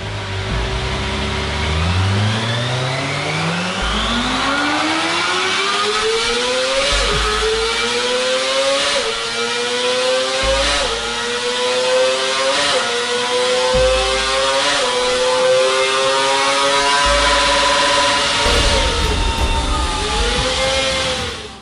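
Kawasaki Ninja ZX-4R four-cylinder supersport motorcycle with electronic throttle bodies revving hard through repeated rising sweeps and quick blips, loud and close, with a high-pitched scream and no talk over it.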